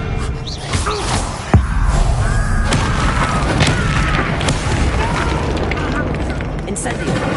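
A Confringo spell blast explodes in the Hogwarts Legacy video game, one sharp boom standing out against a dense, busy mix of game effects and spell noise that fills the whole stretch.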